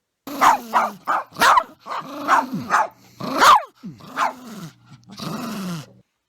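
A dog barks and growls in a series of close, loud bursts, with low snarling rumbles between the sharper barks.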